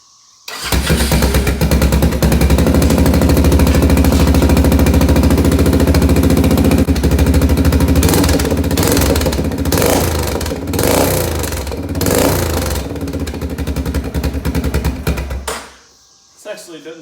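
An Arctic Cat 400 ATV with an open welded header cranks and fires, then runs loud and raspy right up close, with throttle blips and a rough, throbbing exhaust before shutting off.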